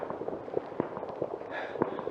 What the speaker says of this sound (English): Fireworks going off all round.